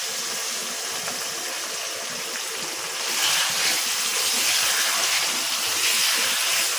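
Chicken pieces marinated in spices drop into hot oil with lightly fried onions in a pan, giving a steady broadband hiss that swells louder about halfway through, with no talking.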